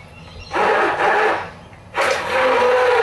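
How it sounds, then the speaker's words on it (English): A handheld blender whirs in two loud bursts through a thick vegan gnocchi sauce, running about a second and a half each with a short pause between, close up. "we're using a handheld blender"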